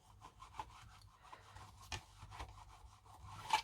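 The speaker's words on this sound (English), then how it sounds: "Turn it this way and go ahead and burnish really well those 2 ends." A bone folder burnishes the folded ends of a paper card for a Christmas cracker: soft, close scraping and rubbing strokes in irregular bursts, fairly quiet and with no talk.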